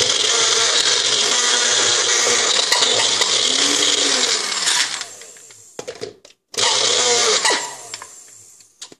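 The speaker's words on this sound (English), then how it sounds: "And we'll just pulse it because we don't want to puree these. So we'll do one at a time. First we'll try this one, the Magic Bullet." A Magic Bullet blender whirs loudly in a long steady burst, cuts out briefly, then pulses again with a rattling motor drone. There is no speech.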